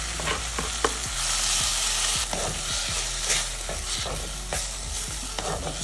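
Tomatoes frying in a hot pan for a healthy winter lunch dish, a loud continuous sizzle with frequent scraping and knocking from stirring, near and without voices.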